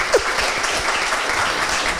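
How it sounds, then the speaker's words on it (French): An audience applauds at a panel event on role models, with steady broadband clapping that fills the whole two seconds, moderately loud and fairly close. "On peut applaudir quand même."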